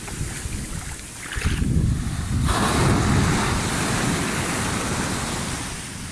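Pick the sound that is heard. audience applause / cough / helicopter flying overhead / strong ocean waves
strong ocean waves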